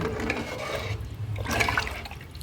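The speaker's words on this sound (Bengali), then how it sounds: "আর একটু জল লাগবে নাহলে সবজিটা সেদ্ধ হবে না" Water poured into a pot of khichuri with vegetables, a steady liquid splashing and gurgling rush that swells again in the second half, close and fairly loud, with no talking.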